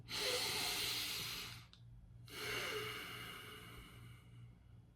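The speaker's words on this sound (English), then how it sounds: "Be okay with making a sound when you breathe." Slow, deep breaths taken close to the microphone, a long airy inhale-exhale, a short pause, then another drawn-out breath, heard alone with no talking.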